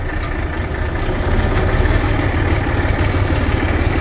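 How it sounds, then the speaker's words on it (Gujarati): A tractor running with a trolley hitched behind and a wheel not turning, its engine a loud, close, continuous low rumble and vibration that holds steady and grows slightly heavier partway through. "હવે આપણે છે ને ટ્રેક્ટર હાલતું કર્યું છે"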